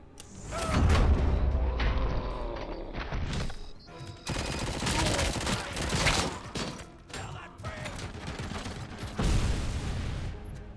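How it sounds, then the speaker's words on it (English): Rapid bursts of gunfire and explosive grenade blasts in RoboCop: Rogue City crackle repeatedly, loud and dense, with brief gaps between volleys. "That felt like a lot of gunfire then."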